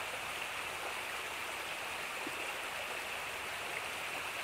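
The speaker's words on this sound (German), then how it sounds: "Unten im Tal angekommen beruhigen sich die Wasser, fließen durch das steinige Bett" Mountain stream in the Ahrntal valley of South Tyrol flowing over a stony bed, a steady, continuous broadband rush of water with no pauses, close and even in level throughout.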